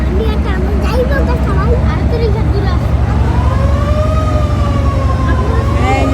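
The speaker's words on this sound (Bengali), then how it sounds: "ওরা বান দিতেছে লঞ্চ ওই যে বান দিতেছে ভিতরে" Passenger launch at the Chandpur ghat in Bangladesh sounding its horn, a long loud wavering blast over heavy engine rumble and crowd noise, with a voice talking throughout.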